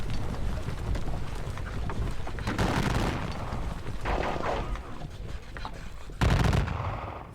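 Cannon and musket fire in a Napoleonic wargame of the Rhine campaign near Kaiserslautern, rapid crackling volleys and booms layered over a continuous din, with a sharp loud burst near the end.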